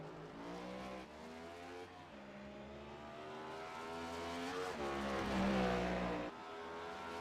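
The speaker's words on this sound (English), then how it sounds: "Look at AJ Cruz slide that car" Race car in a sim racing game at Sonoma Raceway sliding through a corner, its engine note swelling and falling with tire scrub, a continuous loud drone that rises toward a peak before dropping.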